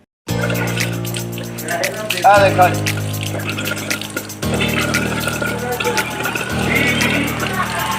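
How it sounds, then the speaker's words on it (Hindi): Water is forced out of a household gas pipeline by a high air-pressure machine, making a loud, steady rush and spray over a constant mechanical hum. The rush shifts in pitch a few times. "हमारे पाइपलाइन से पानी निकल रहा है"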